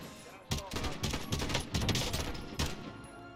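Video game gunfire in Warzone, a 200-player battle royale match, with repeated loud bursts of automatic fire in several rapid volleys over a few seconds, plus some faint background voices.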